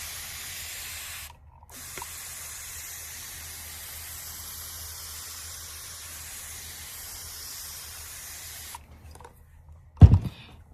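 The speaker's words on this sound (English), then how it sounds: "And we have our mister. And we are just going to make sure they are watered in nicely." A hand plant mister sprays water over marigold seed pots in long, steady hissing bursts, near and close to the ear, broken by short pauses and a brief thunk at the end.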